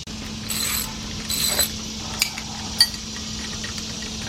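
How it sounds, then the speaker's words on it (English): A harmonic balancer puller works the pulley off a Chevy Equinox or Buick Rendezvous engine under a low steady hum, with metallic ratcheting scrapes and a few sharp clicks and clanks, close but fairly quiet. "I got my harmonic balancer puller, and we're gonna go ahead and we're gonna pull this pulley off."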